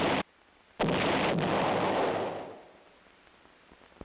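Field artillery gun firing, two heavy booming blasts in quick succession with a long rolling decay, loud and alone.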